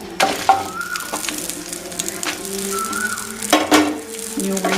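Stirring onion in a pan for a traditional chilli chutney: repeated scraping and clinking of a spoon against the pan with a soft sizzle, a few louder knocks standing out.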